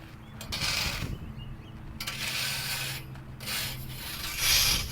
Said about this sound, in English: Rake the dirt evenly and level all around the base.